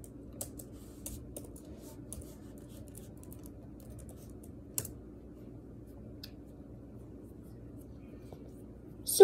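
Keys tapped on a computer keyboard in short scattered bursts, faint and sparse against a quiet room hum, with a louder click near the end.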